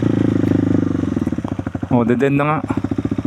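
Dirt motorcycle engine running on a rough bypass road, a close, steady chugging idle with rapid rhythmic pulses throughout, while a person speaks briefly over it.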